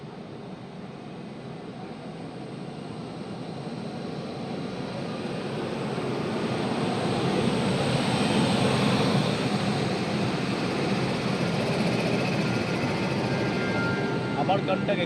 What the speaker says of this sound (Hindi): और सामने से एक ट्रेन आ रही है,